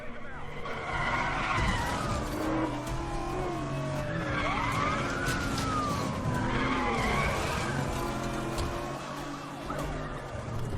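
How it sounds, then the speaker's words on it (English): In Forza Horizon 4 racing gameplay, car tires screech continuously through a long skid, with sweeping squeals rising and falling over a steady engine roar, loud and close throughout. "the sounds of tires screeching on the terrain would slightly lower the car volume"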